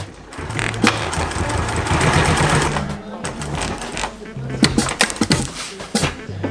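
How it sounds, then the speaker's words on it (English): A sewing machine stitching batten pouches for a sailboat boom bag in a sailmaker's loft runs in a steady close whir that starts, stops and restarts in several bursts. "So that's what we're doing at the moment, sewing pouches for battens."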